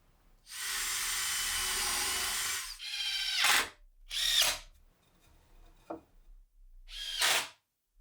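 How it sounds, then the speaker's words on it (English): A power drill whines steadily for about two seconds, then several shorter bursts follow as screws are driven through the back of a wooden patio lounge chair, close and loud in a quiet workshop. "I'm going to drill and screw here through the back."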